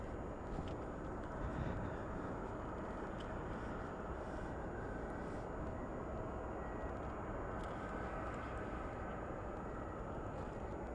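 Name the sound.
Boeing 747 taking off at Anchorage airport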